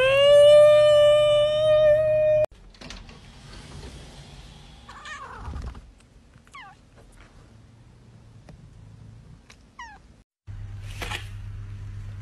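A pet cat meows in a long, loud, wavering call at the start, followed by quieter rustling, faint chirps and a brief second cry near the end.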